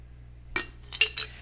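A homemade pineapple juice cocktail poured through a strainer into a container, heard as a few quiet glassy clinks and splashes in brief bursts with no talk.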